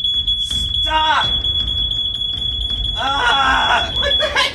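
A smoke detector shrills with a loud, piercing continuous beep, set off near a Spider-Man toaster in a kitchen, while people shout and talk excitedly over it.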